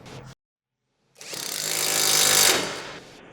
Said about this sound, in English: Use the 19mm open-end wrench and 15mm shallow socket with the impact wrench to tighten the upper shock bolt.